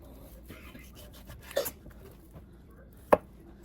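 A knife cuts through a beef chuck roll with soft, close sawing and scraping, then two sharp chops strike the board, the second the loudest, with no voices.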